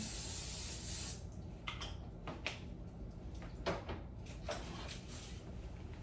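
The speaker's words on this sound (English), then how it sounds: "We're going to spray some of the chicken." Cooking spray hisses onto chicken drumsticks in several short bursts, close and moderately loud, over a steady background hiss.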